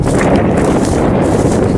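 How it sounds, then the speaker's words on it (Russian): Strong wind buffeting the microphone outdoors while metal detecting, a loud, dense, steady roar with no talking. "Попадается ветер сильный."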